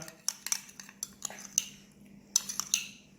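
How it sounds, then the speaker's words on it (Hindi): Greek salad with feta is tossed in a bowl, quiet clinks and taps of utensils against the bowl in an irregular series of light, close hits. "इसको हम कर लेते हैं मिक्स अच्छी तरह।"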